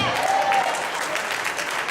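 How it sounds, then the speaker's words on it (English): A church congregation at a minister's anniversary service applauds loudly and continuously, with a voice briefly audible over the clapping. "Give him a hand"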